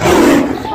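A tiger lets out a single short, loud roar, close and alone, fading quickly.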